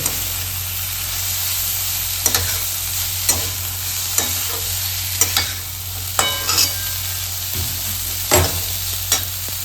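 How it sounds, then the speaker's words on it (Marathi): Onion sautéing in a pan with gavar bean pods added, a steady close sizzle and hiss with intermittent scrapes and clinks of a spoon stirring, no talking. "कांदा तुम्हाला चांगल्या प्रकारे मिक्स करून घ्यायचा आहे त्याच्यात परतून घ्यायचा आहे कांदा"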